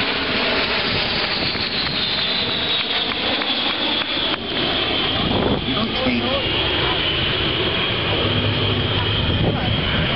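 Loud, steady propeller-engine drone of aerobatic planes passing close overhead at an air show, a continuous roar filling the whole stretch, with crowd and announcer noise mixed in.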